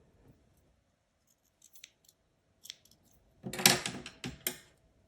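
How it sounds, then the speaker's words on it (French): Scissors cutting crochet yarn, a few faint snips at first, then a cluster of close, crisp metallic snips and clicks in a quiet room. "Je coupe mon fil."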